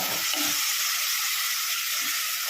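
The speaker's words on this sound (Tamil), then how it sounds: "தக்காளி வெங்காயம் நல்லா வதங்கட்டும்" Tomatoes and onions sautéing in a pan for Kumbakonam Kadappa, a dense continuous hiss of frying with a couple of soft stirring sounds.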